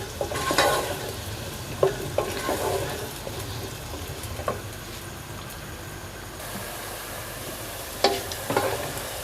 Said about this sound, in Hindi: अब इसको हमने हल्का सा गोल्डन होने तक फ्राई करना है